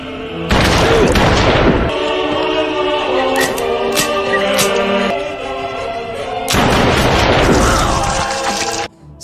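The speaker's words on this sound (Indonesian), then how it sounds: "Setelah itu, sebuah ledakan besar kembali terjadi dan keadaan mulai tenang." A loud, deep explosion bursts out and rumbles, fading into debris and crackling, then a second heavy blast roars before cutting off.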